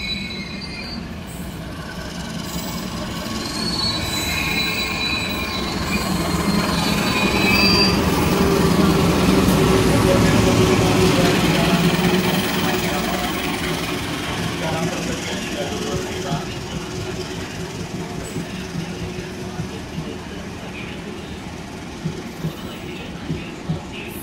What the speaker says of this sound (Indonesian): lanjut jalur 7 kereta api Progo dari Lempuyangan.